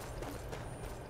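In the video game Skyrim, a horse's hooves clip-clop in a brief burst of quick steps over a dense background of game ambience.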